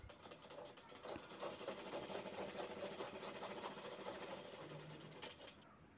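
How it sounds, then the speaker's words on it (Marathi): A sewing machine runs steadily, stitching the side seams of a handmade cloth bag, with a fast, continuous mechanical whir that stays faint and even throughout. "आता दोन्ही बाजू शिवून घ्यायच्यात साईडच्या"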